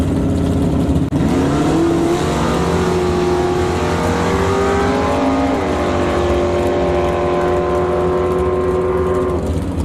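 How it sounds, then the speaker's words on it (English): A 1967 Camaro and a 1966 Mustang with a 427 small block rev hard at a drag strip, loud rising and falling engine tones layered together, sustained and close throughout. "Herman Chan, 67 Camaro out of Vancouver, paired up with Jason Gibson in that 66 Mustang."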